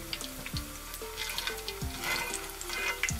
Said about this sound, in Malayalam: എണ്ണ നല്ലോണം ചൂടായിട്ടുണ്ട്